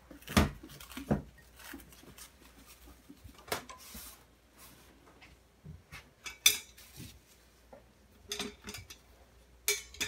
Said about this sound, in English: Now I am going to hand stir in essential oils.